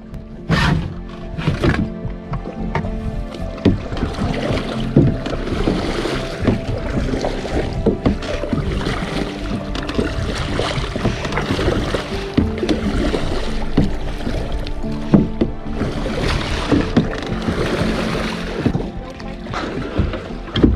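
A small boat that has run out of fuel miles from shore pitches in open sea, with steady sloshing and slapping of waves against the hull, wind buffeting the microphone and occasional thumps, as people talk over it.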